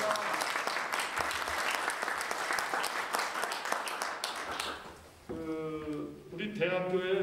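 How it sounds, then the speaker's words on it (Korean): Audience applause at a university scholarship certificate ceremony, a dense steady clapping from a large crowd lasting several seconds, briefly dipping before a voice over a PA speaks near the end. "이용기 총동창회장님 함께 여기 오셔 계신데 박수로"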